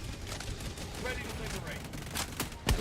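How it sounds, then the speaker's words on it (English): A burst of gunfire emptying a full magazine in Helldivers 2, with sharp, loud shots running through the clip and a heavy blast near the end. "I love that I mag dumped him and didn't die."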